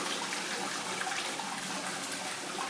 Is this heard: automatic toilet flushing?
yes